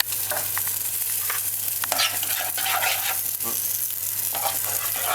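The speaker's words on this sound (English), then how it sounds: "we're just going to sit and let that simmer and reduce down now" Cream being stirred into a girolle mushroom sauce simmering in a pan, giving a constant close sizzle with scraping stir strokes and a low steady hum underneath.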